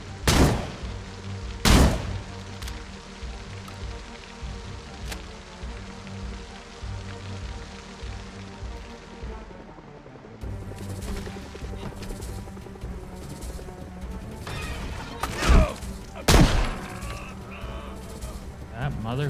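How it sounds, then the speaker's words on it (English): Gunfire from shooting bandits in Project Zomboid, several sharp loud cracks spaced apart over a low steady rain-like background, with a quieter stretch in the middle. "Unfortunately, they ignored my warnings, so I was forced to shoot them."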